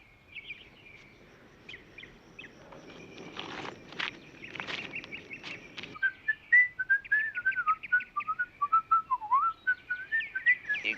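A person whistles a bright, wavering melody up close, preceded by shuffling footsteps and rustling before the tune takes over.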